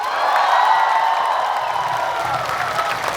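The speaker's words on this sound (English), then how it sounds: "Once again, a big round of applause for 10 MLAs." A protest crowd in Delhi applauds ten MLAs, a steady wash of clapping and some cheering that stays fairly loud throughout and tapers slightly near the end.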